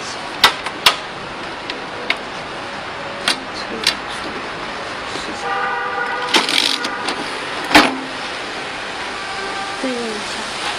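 A G930A wire binding machine punches holes with a handful of sharp, separate mechanical thumps spread irregularly through the clip, heard fairly close over a steady background hiss.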